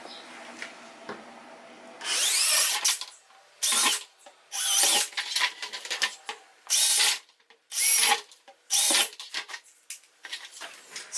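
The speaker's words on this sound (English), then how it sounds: "I just drill 6 holes in a line and then perpendicular to it." A power drill runs in a series of short, loud bursts separated by brief pauses, drilling drainage holes in a 5-gallon plastic bucket, with light clattering between the runs.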